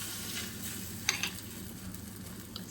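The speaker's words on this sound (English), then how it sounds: "It's sizzling." Pancake batter of eggs and banana sizzles steadily in a hot pan, with a couple of faint clinks of a utensil partway through.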